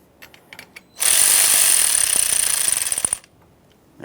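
Power tool whirring steadily for about two seconds while snugging the radiator fan assembly mounting nuts on a 2009-2014 Nissan Maxima, loud and close with a rattling, pulsing finish before stopping; a few faint clicks come before it.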